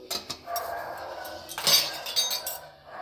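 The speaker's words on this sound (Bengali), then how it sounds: "দিয়ে এটা ঢাকা দিয়ে দিলাম।" Metal utensils clatter and clink around a cooking pot of white chicken with a little sugar, ending in a sharp lid clank near the middle and a few lighter knocks after.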